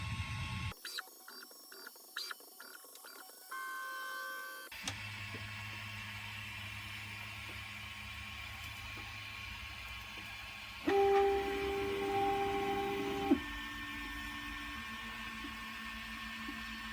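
Prusa MK2S 3D printer running a print of its enclosure file from an SD card: stepper motors whine and buzz in shifting tones, with short rhythmic bursts early on, then sustained motor drones that change pitch, close and fairly quiet, no talk.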